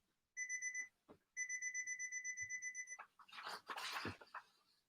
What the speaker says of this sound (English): the timer's going off again